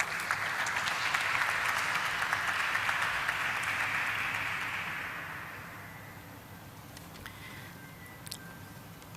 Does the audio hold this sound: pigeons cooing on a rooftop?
no